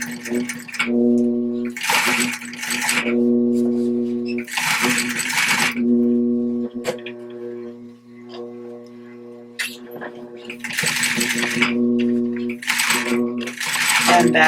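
A sewing machine stitches a zipper with green thread, running in several short bursts of rapid stitching separated by pauses, with a steady motor hum beneath and the needle clicking close by.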